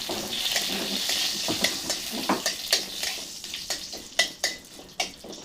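Cumin seeds, bay leaf and two split dry red chilies sizzle in hot oil, a steady bright crackle broken by sharp spoon-and-pan clicks and stirring scrapes, close and alone with no talk.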